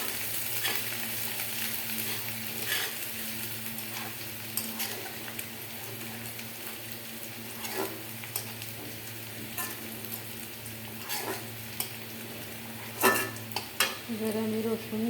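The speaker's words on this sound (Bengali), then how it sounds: "পেঁয়াজটা একটু ভাজা হলে আমি রসুনটাও দিয়ে দেবো।" Onions fry in a pan with a soft, continuous sizzle while a utensil scrapes and clicks against the metal at irregular intervals, all close and fairly quiet over a low background hum.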